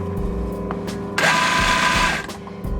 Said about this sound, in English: It's a noisy big machine,